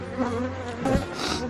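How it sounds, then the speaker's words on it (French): Agitated honey bees swarm around a beekeeper's face during a hive move, a close, loud buzzing with wingbeat whines rising and falling as insects zip past. "Les abeilles deviennent agressives."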